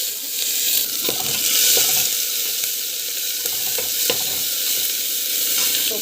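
Mustard seeds, cumin and onion fry in hot oil, a steady close sizzle with intermittent stirring scrapes and small crackles, no voices over it.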